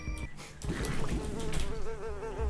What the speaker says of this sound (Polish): Mucha mnie tu sabotażuje cały odcinek.